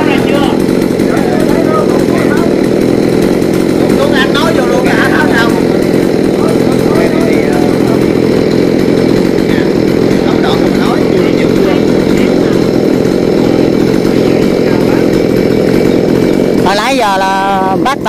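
A chainsaw roars loud and steady while a climber cuts through a coconut tree trunk, holding the saw in one hand, running nonstop with a brief revving change near the end.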